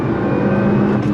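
A Nissan R35 GT-R engine on throttle, a loud, close, steady growl with a rising tone and a rough low rumble, no voices heard.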